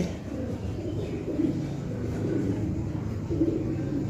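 Low, soft cooing of fantail (peacock) pigeons repeats a few times nearby over a quiet background hum.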